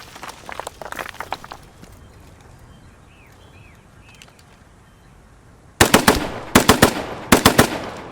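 Video-game gunfire in Post Scriptum, a World War II shooter: faint distant shots early on, then loud close bursts of rapid rifle or machine-gun fire in several quick groups near the end.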